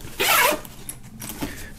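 A zipper on the front pocket of a bag is pulled open in one quick close rasp, followed by fainter rustling of the fabric.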